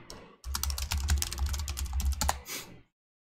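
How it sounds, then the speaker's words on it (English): Rapid, close keystrokes on a computer keyboard typing a command into a terminal, a dense run of clicks lasting a couple of seconds before stopping abruptly. "Then you can open your terminal and just type Jupyter notebook"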